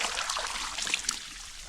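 Water scooped from a rain-filled drum splashes onto sun-heated house walls, a continuous close trickling and spattering with small bursts, no voices.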